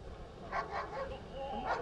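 A police canine barks and yips during a suspect takedown by a county deputy, with several short bursts heard over steady background noise at moderate distance.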